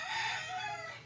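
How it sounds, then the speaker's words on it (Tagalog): A rooster crows in one close, loud, drawn-out call that wavers slightly as it fades at the end. "napakagandang manok"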